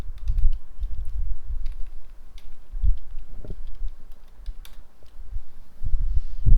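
Code being typed on a computer keyboard, a steady run of soft, close key taps and clicks in uneven bursts with brief pauses, with no talking over it.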